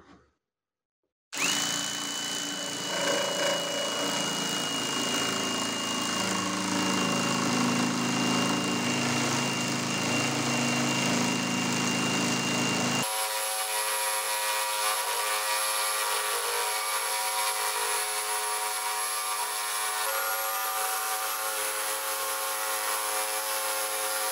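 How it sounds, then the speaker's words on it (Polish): Parkside drill-driven jigsaw attachment cutting through a larch board, a loud steady mechanical whine that runs nearly unbroken, its tone shifting partway through as the cut continues. "Spróbujemy sobie przeciąć taką deskę modrzewiową, no i zobaczymy jak tą przystawką się pracuje."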